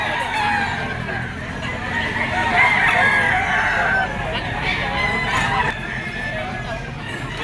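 A rooster crows among chickens at a pet market, a drawn-out call rising over general clucking and crowd noise, with other fowl sounding close by.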